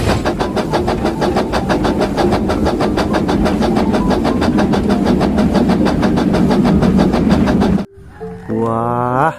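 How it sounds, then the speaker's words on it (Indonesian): A Thomas toy train runs with a fast, evenly ticking motor rattle that stays loud and steady, then cuts off into a brief rising electronic toy tune. "Di sini ada kereta api Thomas."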